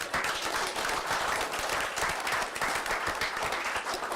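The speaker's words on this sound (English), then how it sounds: "we can all clap for that" Dense, continuous audience clapping at a town council meeting, many hands applauding at an even level throughout.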